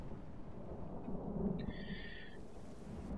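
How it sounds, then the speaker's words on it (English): Thunder rumbles with rain over a video game battle set in a Third Age Woodland Realm: a low, rolling swell builds to a peak, with a brief high whinny-like cry partway through. "Now it's raining."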